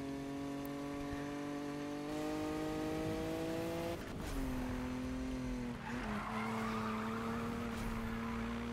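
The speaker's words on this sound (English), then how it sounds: "Little 200 horsepower drift in this thing." Nissan GTR in the Need For Speed video game drifting with about 200 horsepower, a steady droning engine note held near and loud while tires squeal and skid through the slide, with the pitch dipping and recovering midway.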